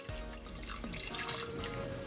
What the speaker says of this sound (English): we're gonna add just a little bit more water